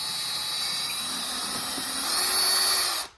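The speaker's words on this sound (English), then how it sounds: "I'm gonna go ahead and center that drill bit up on my mark." A power drill whines steadily while drilling a hole in a C6 Corvette ZR1 for a spoiler install, rising slightly in pitch and loudness near the end before cutting off abruptly.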